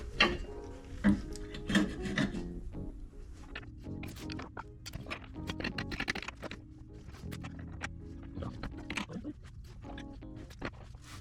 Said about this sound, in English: I did a teeny tiny bit of filing in there, and now this fits in way better